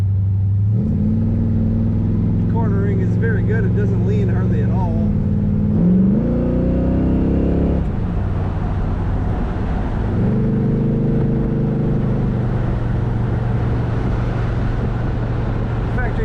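The engine of a 1968 Chevrolet Corvette convertible drones steadily while driving with the top down, its pitch climbing through gear changes and easing off again. Someone talks over the engine for much of the clip.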